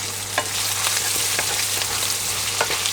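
Chili and garlic hit hot oil beside browned pork belly in a pan, crackling loudly and steadily while a spatula scrapes and taps in quick irregular strokes close by.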